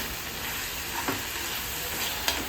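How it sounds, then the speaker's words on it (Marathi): Tomatoes and green chillies fry with browned onion for a paneer curry, giving a fairly quiet, even sizzle with a couple of faint stirring scrapes and no speech. "कांदा छान भाजल्यानंतर टॅमॅटो आणि 2 हिरव्या मिरच्या, 2-3 हिरव्या मिरच्या पण टाकल्यात."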